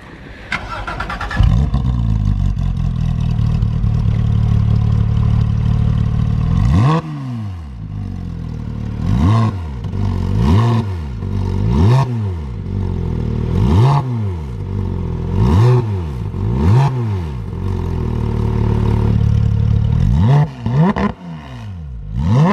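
A Porsche GT3 RS with an IPE exhaust and no large silencer is blipped again and again, with about a dozen sharp, loud, close revs rising and falling in a quick rhythm over a rumbling idle.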